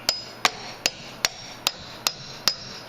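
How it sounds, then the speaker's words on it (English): A hammer strikes an impact socket seated on an eyelet during Mazda 626 timing belt and water pump work, seven sharp metallic blows at an even, steady pace, close and loud with no talk. "So I'm going to put an impact socket on there and just hammer it."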